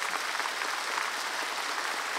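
Steady applause from a studio audience during a Serbian television show, a continuous even patter of many hands clapping with no breaks, fairly close and moderately loud.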